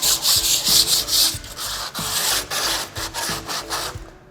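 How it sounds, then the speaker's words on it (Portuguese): A worn piece of sandpaper rubs back and forth over a wooden spool wheel, giving loud, close, rhythmic scratchy strokes in an even repeated pattern with short pauses between passes. "eu vou pegar um pedaço de lixa, pode até ser um pedaço de lixa velho, não precisa ser um pedaço de lixa novo, e vou passar superficialmente na madeira."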